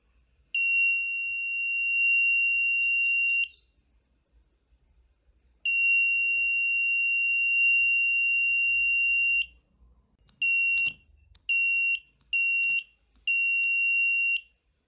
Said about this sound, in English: and our buzzer is on